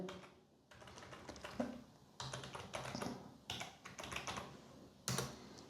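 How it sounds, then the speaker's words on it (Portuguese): Quick bursts of clicky typing on a computer keyboard while entering a password during an Arch Linux ARM install on a Mac Mini M4, close and fairly quiet with short gaps between runs of keystrokes. "Eu vou pressionar Enter e eu vou digitar uma senha."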